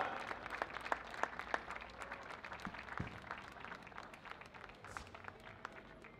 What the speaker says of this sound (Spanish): Que se escuche el aplauso para esta gran representación de Rapa Nui en la Media Luna